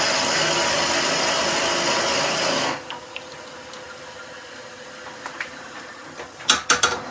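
A wood lathe turning a salt and pepper mill blank runs with a loud, steady whirring roar for about three seconds, then stops, leaving quiet room tone with a few light knocks and clatters near the end.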